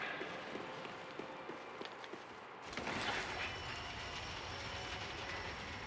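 Mechanical rumble of an elevator in Dark Souls 3, a steady low grinding drone with faint clanks that swells and brightens midway, heard alone without talk.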